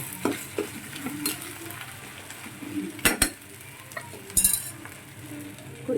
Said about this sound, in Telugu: పేస్ట్, ఉప్పు, కారం, గరం మసాలా కొంచెం బాగా వేగాలన్నమాట.